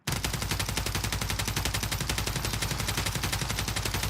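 Rapid automatic fire from an SVA rifle on a video game firing range, a dense unbroken stream of loud, close shots with a steady rhythm lasting several seconds, no voices.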